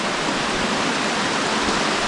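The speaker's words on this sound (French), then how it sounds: "Bon voilà, cascade vue d'en haut." Continuous hiss and roar of a small waterfall heard from above, a steady broadband rush of water at close range with no talk.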